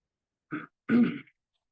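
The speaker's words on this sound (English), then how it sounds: "I'm going to cough again." Two short, close coughs, the second stronger and rougher like a throat-clearing, with silence around them.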